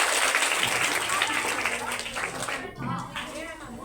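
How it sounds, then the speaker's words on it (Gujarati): Applause from an audience at a girls' school cultural costume show in Ghogha, a dense crackling wash of clapping that stays loud and fairly steady for about four seconds before easing slightly, with voices mixed in. "ચલો જોરદાર તાળીઓથી।"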